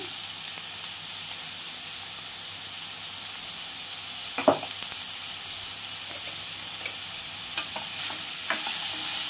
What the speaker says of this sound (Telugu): వీటన్నింటినీ మంచిగా ఫ్రై చేసుకోవాలి.